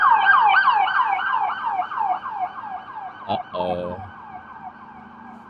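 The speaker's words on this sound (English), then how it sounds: "Police car." Police car siren on a New York City street, a loud rapid yelping wail near the start that fades as the car moves off, with a short horn-like burst midway and a brief voice.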